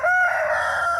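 A male Pekin-type chicken crows at a country park, one drawn-out close call holding steady for about a second, loud and alone without any talking.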